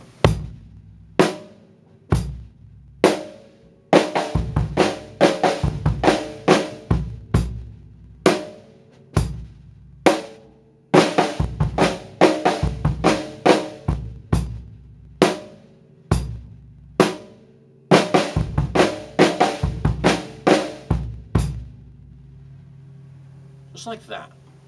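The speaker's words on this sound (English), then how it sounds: "You do a right-handed flam with a left hand following it. And it has to take on a triplet feel," A drum kit plays a rock flam tap riff with a triplet feel, sharp right-hand flams followed by the left hand, loud close hits in repeating bursts separated by short pauses.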